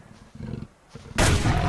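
A rifle headshot on a level 1 cougar in the survival game Subsistence: a couple of low thuds and rumbles, then a loud, sudden crack-like blast in the final half second, close and alone without talk.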